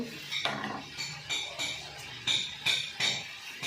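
Mustard, cumin and sesame seeds stirred in a dry wok with a metal spoon, giving repeated close scraping clinks in an uneven rhythm.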